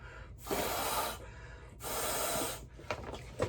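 Air blown by mouth into a scuba BC through its inflator to partly inflate it after rinsing: two long, steady breathy rushes with a pause between, followed by a few short puffs.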